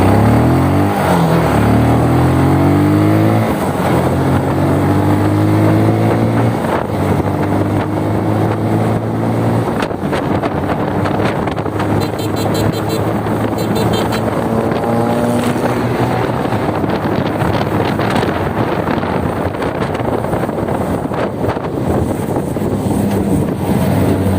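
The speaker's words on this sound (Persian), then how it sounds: "الان برای شما یه تست شتابم از این موتور همینجا بگیرم" A Benelli 180 motorcycle engine revs hard and climbs in pitch repeatedly as it shifts up through the gears, with heavy wind rush throughout.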